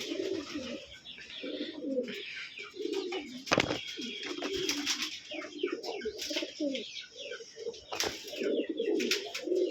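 Pigeons kept for sale coo steadily in soft, low repeated phrases, several birds overlapping close by, with a couple of sharp flapping or knocking bursts in between.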